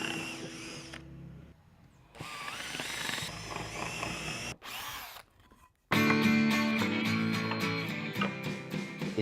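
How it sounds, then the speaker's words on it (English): A wood drill bit drills through a piece of scrap wood with a loud, whining power-tool drone. It comes in several bursts with short pauses, and the final stretch runs steady and louder. "take this wood drill bit and drill right through the piece of wood"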